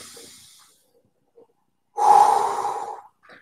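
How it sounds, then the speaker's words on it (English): A deep breath drawn in during a workout warm-up, a loud, breathy inhale of about a second that rises then fades, following a quieter exhale and a near-silent pause. "Right, breathe in."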